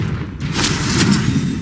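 A spell impact in the video game Hogwarts Legacy, a dull booming burst followed by a sustained rumbling roar and a couple of bright hits, loud and continuous with no voice over it.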